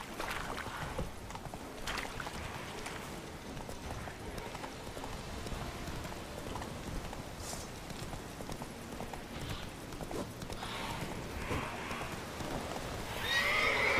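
Roach, the horse in The Witcher 3, clip-clops steadily with hooves on the ground and gives several whinnying neighs over a busy outdoor game soundscape, with faint talking at times.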